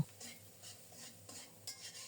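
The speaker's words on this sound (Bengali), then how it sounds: "নেড়ে চেড়ে পেঁয়াজটাকে লাল লাল করে ভেজে নেব" Onions sizzle quietly in oil in a pan while a utensil scrapes and stirs in gentle, repeated strokes, soft and close.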